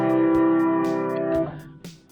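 Piano slightly out of tune in a home studio, sustained chords ringing near and loud, then a shift to a new chord with lighter notes as the first decays.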